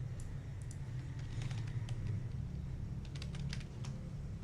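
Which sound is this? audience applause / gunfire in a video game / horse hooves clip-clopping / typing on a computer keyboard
typing on a computer keyboard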